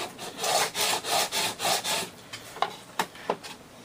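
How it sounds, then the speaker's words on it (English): A mold block being sanded by hand to remove witness lines, giving rhythmic back-and-forth rasping strokes, close and fairly loud, that slow into a few separate scrapes near the end, with no voices. "Now you sand a bit until you've erased the witness lines, including the one on the front of the block."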